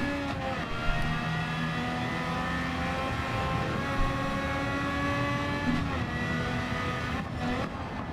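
A race car in Gran Turismo 7 revs out in second gear, its engine note climbing steadily in a loud, sustained whine with harmonic overtones, heard close and alone with no voices over it.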